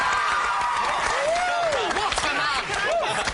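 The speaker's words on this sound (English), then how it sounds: "Round of applause, ladies and gentlemen." A television studio audience claps and cheers continuously, a dense wash of applause with a few voices rising above it.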